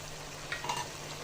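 Masala for a homestyle chicken roast frying in oil in a pan as sugar and a few green chilies go in, a steady soft sizzle with a brief louder crackle and stir near the middle, no voices.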